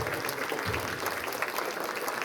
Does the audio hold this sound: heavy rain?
no